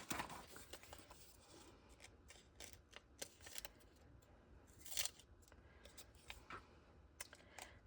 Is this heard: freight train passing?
no